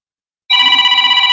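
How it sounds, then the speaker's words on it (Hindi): A phone ringtone starts abruptly after a short silence and keeps ringing loud and steady with a bright, sustained electronic tone, sounding alone with no talk. "ये लगातार कोई फोन कर रहा है"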